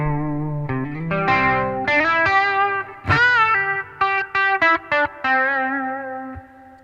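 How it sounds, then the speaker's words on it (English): Electric guitar with humbucker pickups played through the chorus effect of a TC Electronic Plethora X3 pedal gives shimmering, slightly distorted chords and picked notes. It starts as a sustained wash, then breaks into short choppy stabs near the end, with no talking. "That might be my new favorite chorus on here."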